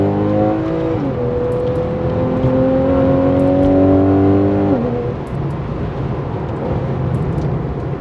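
A Porsche 911 991 Carrera 4S flat-six engine pulling through a chain of mountain corners, loud and close from inside, revs climbing in steady gear-held sweeps, then dropping sharply on a lift-off before settling into a lower drone.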